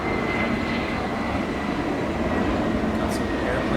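Airplane passing near the airport, a steady broad engine roar with a faint high whine, continuous and moderately loud over outdoor ambience.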